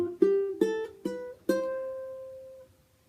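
Four plucked ukulele notes climb a major scale one by one, bright and close, the last note ringing out and fading, with no voices.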